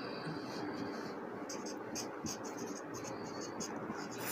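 A pen writes on paper as a school notice is drawn up, with quick faint scratchy strokes in short bursts close by against a soft background hiss.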